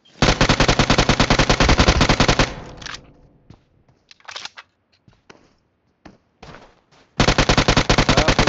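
An M249 machine gun fires in a video game, loud rapid sustained bursts at the start and end with scattered single shots and clatter between, close and dominant.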